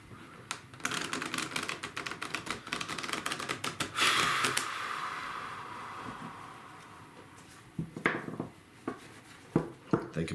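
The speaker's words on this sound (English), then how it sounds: "now I'm just going to sit here and shuffle a little bit" Tarot cards shuffled by hand, a quick flurry of crisp riffling clicks and snaps, close and moderately loud, with a pause before a few more shuffles.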